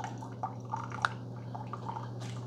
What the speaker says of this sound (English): So let's just do dispensing hot water.